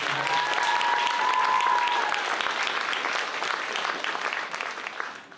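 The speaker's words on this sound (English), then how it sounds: "let's give Ginger a round of applause" A school arts audience gives a round of applause for Ginger Peterson after a band and choir performance, with full, steady clapping and a few cheers that taper off at the close.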